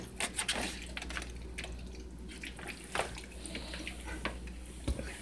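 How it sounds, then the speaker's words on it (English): Vinegar is poured over cleaned spare ribs being prepared for grilling, heard as soft, irregular splashing and dripping liquid sounds, close and fairly quiet. "Now what I do is I take a little vinegar, I cover it in vinegar,"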